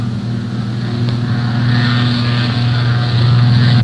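A 1923 Fokker T-2 monoplane's propeller engine roars steadily through takeoff, loaded to about 10,000 pounds, with a continuous low drone and droning harmonics that hold loud and unbroken throughout, no voices present.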